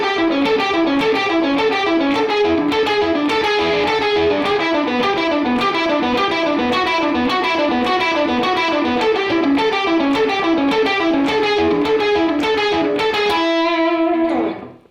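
Distorted electric guitar running a fast blues-rock picking exercise riff, a dense, continuous stream of rapid picked notes, loud and close, ending on a held ringing note that cuts off.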